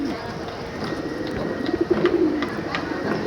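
Pigeons sitting in the rain give a soft, close cooing burst near the middle of the clip. A steady patter of rainfall runs underneath.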